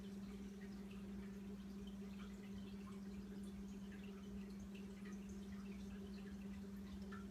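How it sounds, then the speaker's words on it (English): Newspaper fire starters held under melted wax give off faint, scattered little bubbling pops over a steady low electrical hum, quiet and close throughout. "I like to hold them under there it'll bubble,"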